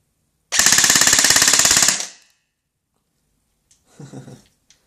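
A rapid, loud burst of full-auto fire from a G&P Sentry M4 airsoft rifle rattles for about a second and a half, followed by a quieter short mechanical whirring sound.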